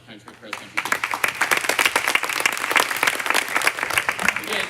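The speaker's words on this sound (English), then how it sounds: "another round of applause to the country cross country team" A crowd at a fall sports awards event applauds the cross country team, steady dense clapping rising quickly after a brief quiet start and holding loud throughout.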